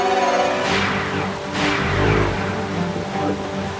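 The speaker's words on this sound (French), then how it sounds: "Oh non! Une tempête approche." Cartoon storm sound effects as a storm approaches a farm: rushing rain with swelling gusts and low rumbles, fairly loud and continuous.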